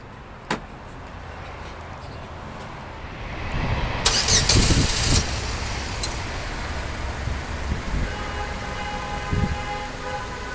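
A Chevrolet engine starts up and the car pulls away, its rumble and road noise swelling and then settling over a steady rain-like hiss.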